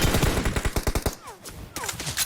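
PUBG Mobile gunfire: a rapid, loud burst of automatic shots in quick succession, then a short gap with bullet whizzes before more shots crack out.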